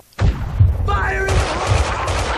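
Max Payne gunfire in an upper-floor apartment level: a loud blast starts abruptly, followed by a few heavy shots and ringing echoes packed into a couple of seconds.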